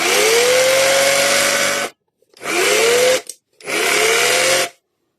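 Parkside hammer drill running freshly repaired, three loud close bursts of motor whine spinning up, separated by short silences, with no talk.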